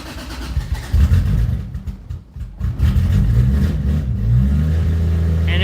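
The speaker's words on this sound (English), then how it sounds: "I have to actually hit the throttle." A car engine close by revs hard several times as the throttle is blipped, rising and falling in loud bursts before settling into a steady idle.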